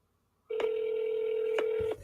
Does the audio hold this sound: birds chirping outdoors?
no